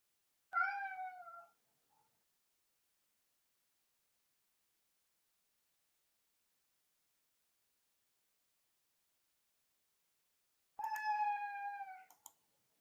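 A cat meows twice, a short cry near the start and a longer one after a long silence, close and clear in an otherwise quiet room.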